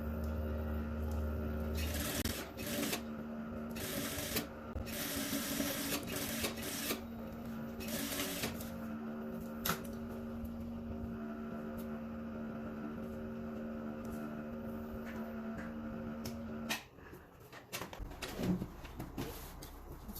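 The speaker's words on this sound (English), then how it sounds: "I'm going to sew this part down now with 1/2 inch." A sewing machine stitching down the sleeve of a pleated baby dress, running in a steady close hum with short pauses and restarts, then stopping near the end, with no talking.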